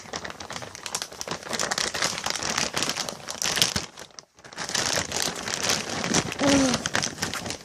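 Plastic or paper packaging is torn apart by hand in a long crinkling, ripping burst, a brief pause, then more close crumpling and tearing.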